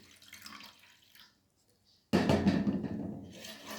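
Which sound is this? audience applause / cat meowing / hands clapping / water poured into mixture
water poured into mixture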